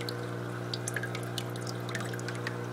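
Water drips steadily from a drip-acclimation line into an aquarium holding newly bought ghost shrimp. Small, close drips fall at irregular intervals over a continuous, even background hum.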